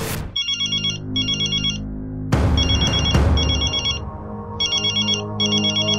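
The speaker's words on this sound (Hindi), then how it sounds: "श्वेता जी, ये दयावंती जी का बार बार फोन आ रहा है।" A telephone ringtone plays in a Hindi TV drama scene, bursts of electronic ringing repeating in a steady pattern over a low music bed, with a sharp hit and louder swell in the middle.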